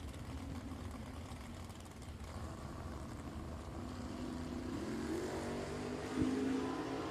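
A Nova drag racing car at a drag strip makes its run. A low engine drone builds steadily from some distance, rising in pitch as it accelerates and swelling slightly near the end, with no talk over it.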